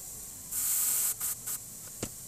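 Short bursts from a spray-paint can coat a Christmas-themed crankbait fishing lure: one long hiss followed by two brief sprays and a small tap, close and alone with no talking.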